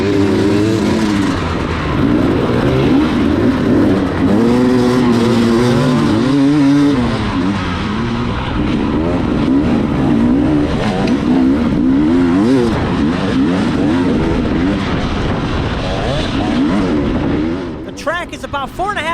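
Off-road motorcycles fire up together at the start of a short-course race, a loud dense roar of many engines revving and pulling away, warbling pitches overlapping, with a voice talking over the noise before it thins at the end.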